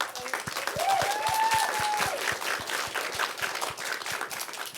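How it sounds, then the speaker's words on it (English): Round of applause from an audience at a studio panel talk, a dense steady wash of many hands clapping at close-to-moderate distance, with a brief whistle-like tone rising over it partway through. "We got to give a round of applause for them."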